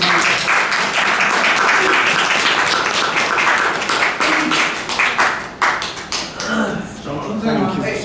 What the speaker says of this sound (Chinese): 掌声听见了